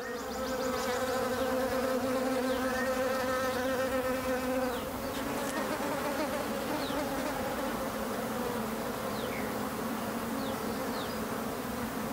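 Steady, dense buzzing of bees and other flying insects feeding on flowers outdoors, close and continuous, with individual wingbeats swelling and fading as insects pass near.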